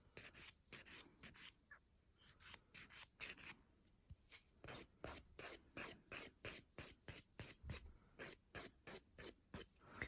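A 180 grit nail file rasps back and forth over fingernails in a steady, rhythmic series of close, crisp strokes, about two per second, with no talking.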